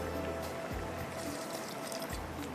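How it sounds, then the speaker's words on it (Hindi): A little water goes into a pan while cooking grilled fish masala, a soft liquid trickle and splash with a few low squishy thumps, quiet and close-up. "थोड़ा सा इसमें जाएगा पानी।"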